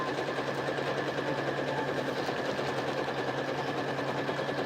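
A sewing machine runs a French seam along the side of a clear vinyl storage bag, a steady, rapid, close mechanical stitching that continues without pause and without any voices.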